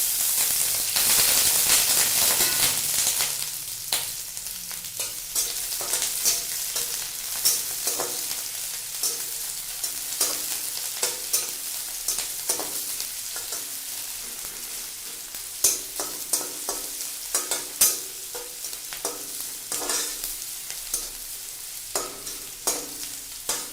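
Onions frying in hot oil in a wok, a loud continuous sizzle with frequent scraping stirs of the spatula, the hiss strongest at the start and sharp clacks repeating close up.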